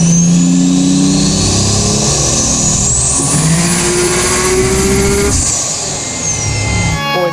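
A 1500 hp Dodge Dart with a 3.2-liter 2JZ stroker engine revs hard on 40 psi turbo boost, loud and close, climbing steadily through the gears with a rising turbo whistle, then easing off near the end.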